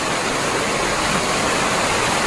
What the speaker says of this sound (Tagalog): So amo na yung falls dire.